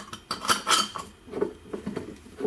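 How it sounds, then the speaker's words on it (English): Milk is shaken inside a lidded glass jar, giving rapid rattling, clinking and sloshing bursts in an uneven rhythm, close and fairly loud, with no voices. "give it a good shake for at least 30 seconds so it gets nice and creamy and frothy"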